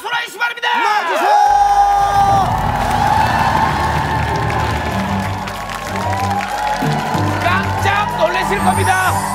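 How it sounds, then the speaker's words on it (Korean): Studio audience at a Korean TV variety talent show applauds and cheers loudly, mixed with music and a host speaking over the crowd throughout. "큰 박수로 하시기 바랍니다"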